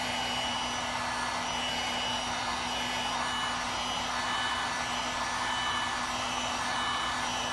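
Steady, close whoosh of a heat gun blowing hot air over EVA foam pieces for a costume, an even hiss with a constant hum running unbroken through the whole stretch.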